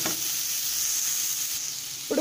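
Boiled cluster beans stirred with masala powder in a hot pan, giving a short, even sizzle with light scraping, close by and with no voices.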